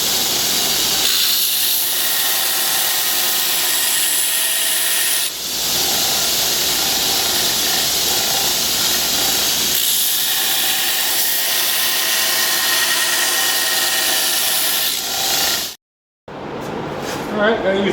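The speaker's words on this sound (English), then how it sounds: "I'm over here at the belt sander" A belt sander running a 60 grit belt profiles a steel knife blank, giving a loud, steady hissing grind close by with slight surges in pressure, then cuts out abruptly before briefly starting up again.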